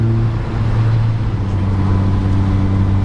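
A Lotus Elise sports car fitted with an aftermarket exhaust drones steadily on the road, a loud, low continuous engine hum with no revving, close and alone.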